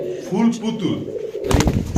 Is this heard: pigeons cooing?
yes